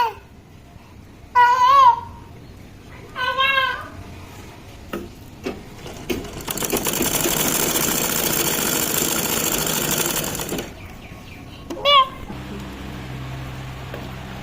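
A sewing machine stitches around the leg of a half pant in one steady run of about four seconds. Before and after it come a few tonal chirps and clicks, and there is no clear talk.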